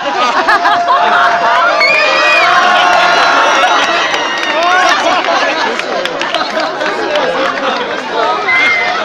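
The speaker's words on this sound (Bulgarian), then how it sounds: "Аплодисменти за Ивайло" A lively birthday party crowd cheers and whoops with children shouting, a dense, loud wash of excited voices and chatter running steadily throughout.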